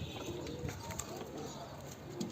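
Mated Basra lotan pigeons give low, soft coos, murmuring quietly beneath steady background noise and a faint voice nearby.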